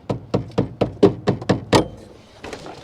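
On a cheap Corvette, someone raps repeatedly on the hood to knock it down, about eight sharp, evenly spaced knocks close by, followed by a few fainter taps.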